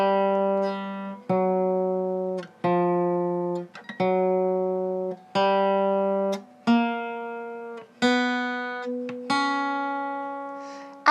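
Guitar scale practice pattern played slowly with a poor hand position, about ten plucked single notes stepping upward one at a time, each ringing and decaying before the next, with no talking.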